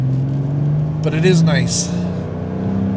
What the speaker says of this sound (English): I hope you can hear that exhaust.